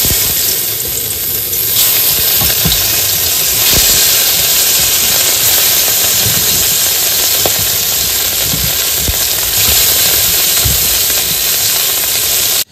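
Fish is added piece by piece to hot oil in a kadai, producing a loud, continuous close-up sizzle with occasional sharper pops and crackles throughout.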